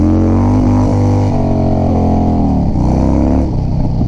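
A motorcycle rides down a steep home driveway, its engine droning loud and close with shifting pitch as it rolls along.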